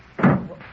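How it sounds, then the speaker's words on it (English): A door opens in an old radio drama, one short knock-like thud with a soft follow-through, close and alone with no voices over it. "Pardon me while I answer the door."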